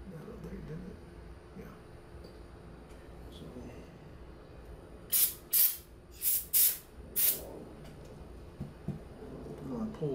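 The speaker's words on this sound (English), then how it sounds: "I'm just gonna try to clean them with a little of the carb cleaner." Several short bursts of carb cleaner sprayed onto small carburetor nuts and parts during a Mustang carb rebuild, five quick hissing blasts in the middle against a quiet background.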